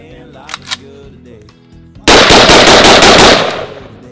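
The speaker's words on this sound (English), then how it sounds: "Shooting real guns out of here." Real guns fired in rapid bursts at an outdoor shooting range, loud close reports following a few brief scattered sounds, with a continuous stretch of sharp repeated shots lasting over a second.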